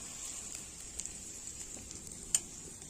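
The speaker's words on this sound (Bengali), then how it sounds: "এই যে বন্ধুরা দেখো পেঁয়াজটা ভেজে নিলাম" Onions frying in a pan for onion dal: a quiet, steady sizzle with a few faint ticks and one sharper pop, close and alone without talk.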